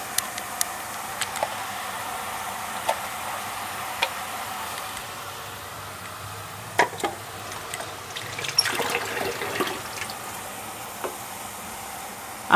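Tomatoes go into a hot pan of prawn pulao and sizzle with a soft, wet frying hiss, close by, with a few light clinks and a brief louder burst of sizzling partway through.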